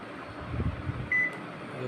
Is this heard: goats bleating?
no